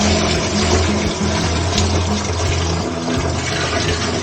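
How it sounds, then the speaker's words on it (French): Water rushes steadily into a solar water heater during a fill test, a loud, continuous pouring and gurgling wash with a low pump-like hum underneath. "on va faire un essai de remplissage avec de l'eau"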